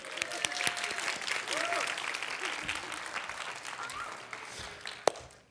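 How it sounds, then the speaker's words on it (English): Variety show audience applauding a child volunteer, a full burst of clapping that swells and then slowly thins out, with voices murmuring underneath and a single loud clap near the end. "So everybody give her a round of applause."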